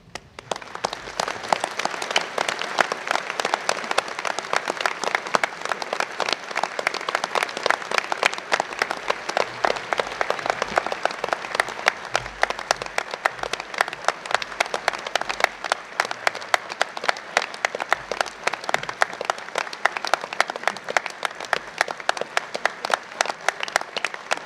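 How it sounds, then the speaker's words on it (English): Graduation ceremony audience at Swansea University giving sustained, loud, dense applause from many hands, continuous and even for the whole stretch. "Graduates, please turn around and join us in a round of applause for those who have made this day possible for you."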